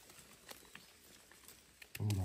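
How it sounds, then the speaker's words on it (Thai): Rain falls in a forest with a steady, soft patter and scattered light drips throughout, before a voice begins speaking at the very end. "ฝนตก"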